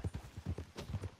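Horse hooves clip-clop at a steady walking rhythm in the open-world western game Red Dead Redemption 2, about a dozen fairly quiet, close footfalls with no talking.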